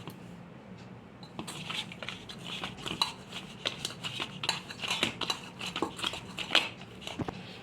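Onion vegetable roll stuffing being mixed by hand or spoon in a metal bowl, a quiet run of irregular clinks, scrapes and soft squishes starting after a short pause.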